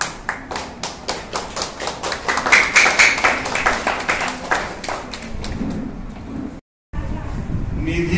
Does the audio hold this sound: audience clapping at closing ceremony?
yes